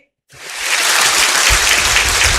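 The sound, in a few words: audience applauding a quiz participant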